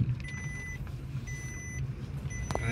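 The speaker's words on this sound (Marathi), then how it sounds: "सीट बेल्ट लावाय नसल्यामुळे असा आवाज येते आपल्याला." A new car's seat belt warning chimes in repeated, evenly spaced electronic beeps, about one every half second, over the low hum of the car's engine and cabin, with no talking.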